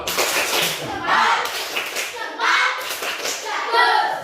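Elementary school children clap a rhythmic "tepuk jempol" class clap in a classroom, short bursts of group clapping broken into a patterned beat, mixed with the children's voices chanting along.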